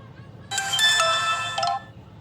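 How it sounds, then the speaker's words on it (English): A Sonim XP5S phone plays a message notification tone, a bright sustained chime of about one and a quarter seconds, loud and clear over a low background hum. "there was a tone that played on the phone here, and that tone was indicating that I have a message"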